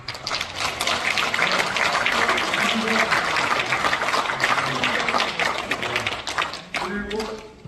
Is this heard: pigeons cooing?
no